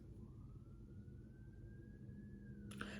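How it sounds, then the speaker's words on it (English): Police siren passing outside, a faint rising wail heard distantly beneath steady low background rumble, ending with a brief clatter near the close. "There have been so many sirens here today."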